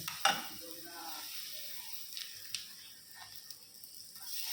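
Batter spread by hand across a hot tawa griddle, giving a faint, steady sizzle with a few soft scrapes and light clinks throughout.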